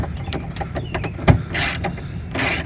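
Bolts on a 2003 Yukon XL Denali door window regulator being snugged up, giving close, quick metallic clicks and ratcheting creaks with two brief, louder rasping bursts.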